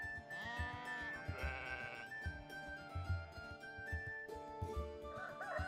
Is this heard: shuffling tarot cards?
no